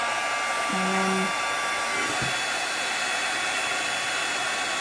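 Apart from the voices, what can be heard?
heat embossing gun blowing hot air to dry paper craft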